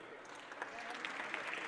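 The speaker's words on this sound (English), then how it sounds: "Round of applause." Basketball fans at a Faith versus SCA game give a brief round of applause, a light patter of clapping that sits in the background.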